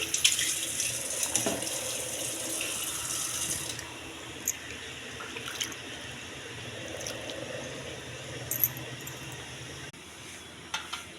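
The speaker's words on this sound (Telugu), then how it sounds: "శుభ్రంగా ట్యాప్ వాటర్తో కడిగి" Tap water runs into a sink while something is washed clean, a steady splashing flow that is loudest at the start and then continues more softly with small clinks, with no talking.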